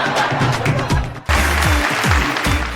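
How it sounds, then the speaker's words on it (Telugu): Studio audience on a Telugu TV game show clapping in rhythm, a brief burst that dips for a moment and then comes back louder and fuller, with a little talk mixed in. "క్లాప్స్."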